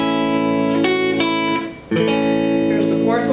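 Guitar chord-melody of the third line of Silent Night, with sustained strummed chords ringing out, a brief dip near the middle, then another chord struck and held.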